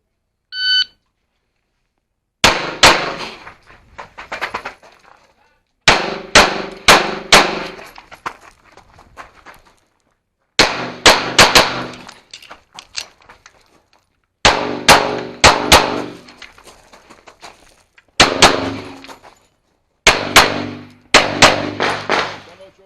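Gunshots from a practical shooting match stage ring out in rapid strings of sharp, loud cracks, grouped in bursts with short pauses between positions, along with occasional electronic beeps and steel-target clangs.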